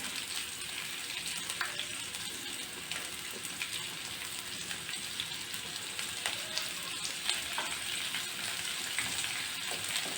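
One large onion, sliced lengthwise, fries in about two spoons of oil with a faint, steady crackling sizzle that runs throughout, quiet and continuous.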